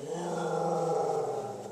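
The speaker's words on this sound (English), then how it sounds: "That's the dog again." A dog growls low and steadily at close range, one sustained rumbling snarl lasting nearly two seconds.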